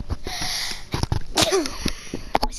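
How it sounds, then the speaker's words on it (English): A single close sneeze with sharp breathy bursts and sniffs around it, followed by a few quiet vocal sounds and breaths. "I sneezed again, sorry."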